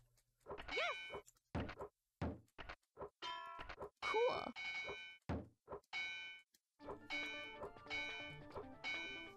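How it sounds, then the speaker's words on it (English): Shooting gallery video game effects: a string of short electronic dings, chimes and thunks in quick irregular succession, some bright tonal hits ringing briefly, close and clean with brief gaps between them. "Oh, it's one of these shooting gallery things."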